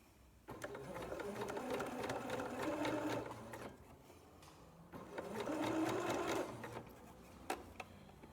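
A sewing machine stitches T-shirt fabric in two whirring runs of about three seconds each, separated by a short pause, close and fairly quiet.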